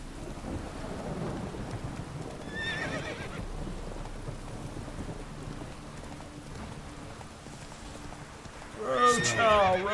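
In The Witcher 3, Roach the horse neighs during a thunderstorm. Rain and rumbling thunder run throughout, whinnies break through briefly early on and again more loudly at the end, and a voice talks over the storm.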